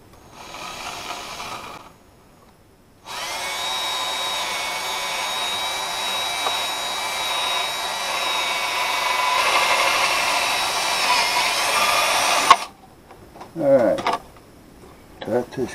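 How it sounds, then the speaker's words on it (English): A handheld power drill whirs steadily at close range for about ten seconds with a fairly even motor pitch, then cuts off, followed by some handling noises. "Let me get the drill."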